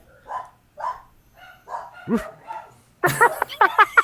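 A dog barks in a home setting during a podcast recording: a series of separate barks with short gaps, then a louder, faster flurry of yaps near the end, close to the microphone.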